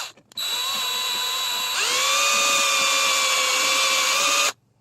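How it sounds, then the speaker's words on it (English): A power drill drills out a rivet on the convertible top of a 1975 Triumph Spitfire. It gives a high, steady whine that jumps in pitch partway through as the bit bites, then cuts off abruptly. "You ain't drilling all the way through."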